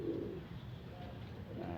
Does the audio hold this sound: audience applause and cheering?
no